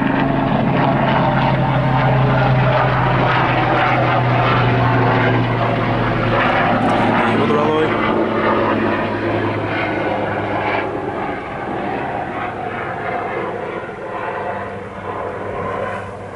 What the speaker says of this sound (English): Do apologise for the helicopter flying quite low today.